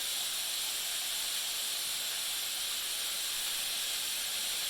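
Hot oil frying calamari sizzles and hisses loudly and steadily, a bright constant crackling spray of frying with no pauses or voices.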